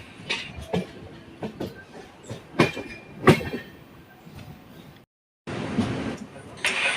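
The Ernakulam–Velankanni Express runs on rails in second class, giving a steady, loud rumble broken by rhythmic wheel clatter and knocks, followed by a short hush before the noise returns.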